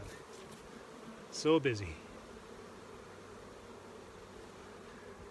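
Bees swarm and buzz busily around a parked truck in the open air, a steady insect drone throughout with one louder close pass as a bee flies near, and a brief spoken comment over it.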